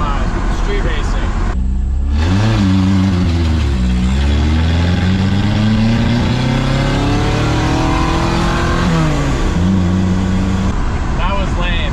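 Cars rev and accelerate hard in a street drag race, a loud engine note climbing through gears with rising pitch sweeps, close and continuous, with voices talking over it.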